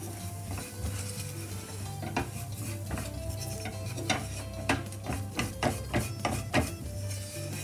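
Flour being stirred into curry powder and aromatics in a pan with a utensil, giving repeated scraping and clinking strokes over a soft steady sizzle, growing busier and more rhythmic toward the end.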